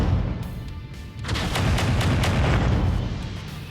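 Heavy mech weapons pound enemy turrets in MechWarrior 5, a dense run of booming, crackling impacts that swells after a brief lull and stays loud and continuous to the end.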